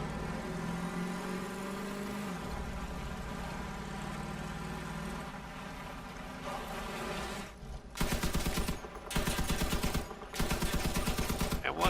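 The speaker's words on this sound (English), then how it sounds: "I'm going to go shoot off just that grill." Bursts of rapid gunfire from the Crossout vehicle combat game, blasting a grill part off a vehicle, come in three dense volleys near the end after a steady engine drone, loud and close.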